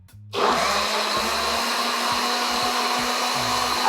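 A motor whirs loudly and continuously after a click at the start, a blender running steadily with a high whining drone as it blends a watermelon smoothie.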